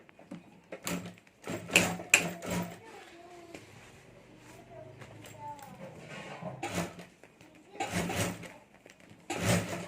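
A sewing machine stitches the lining of a homemade luggage bag, running in short loud bursts at the start and again near the end, with quieter handling and a voice talking in between.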